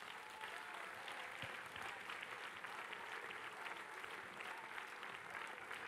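Steady applause from an audience at a public political meeting in Vendée, continuous and fairly even throughout, heard at moderate distance without speech over it.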